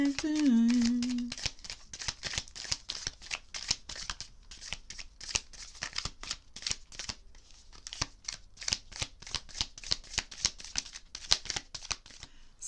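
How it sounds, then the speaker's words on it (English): Tarot cards are shuffled in a long run of quick, crisp riffling bursts, close and fairly quiet, after a brief voice at the very start. "I was shuffling"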